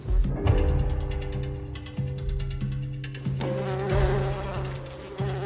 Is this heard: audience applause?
no